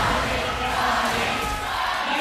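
A live Mobile Legends esports crowd in the Philippines roars for a team, a loud sustained wall of cheering and shouting with no break, voices blurred together into one dense surge.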